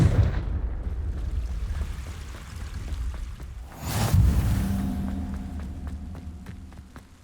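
Confringo fire spell in Hogwarts Legacy bursting in a single loud blast midway through, preceded by low rumbling and followed by a fading roar with faint ticking and tonal game effects.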